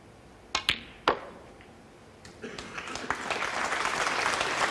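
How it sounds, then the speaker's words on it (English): Audience applause at a snooker match, the Champion of Champions 2016 between Mark Selby and Liang Wenbo, rising after a few sharp cue-ball clicks into steady, moderately loud clapping from a crowd. "The applause recognises that that was the winning shot"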